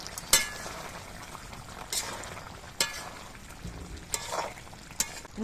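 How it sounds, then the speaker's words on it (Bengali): Cauliflower being stirred in a pan after the lid is lifted, with soft sizzling and bubbling under a string of sharp utensil scrapes and clinks against the pan, quiet and close. "10 মিনিট বাদে ঢাকনাটা খুলে কপিগুলো একটু নেড়ে দিচ্ছি।"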